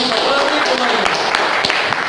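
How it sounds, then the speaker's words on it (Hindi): An audience at a motivational talk claps together, giving a dense, steady patter of applause with sharper individual claps, loud and close, lasting the whole moment. "इनके लिए जोरदार ताली बजाओ।"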